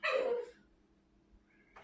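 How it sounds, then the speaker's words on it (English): A female dog gives one sharp bark at her leash, eager for a walk, followed by a short faint whimper, close and alone in a quiet room. "She's barking at her leash"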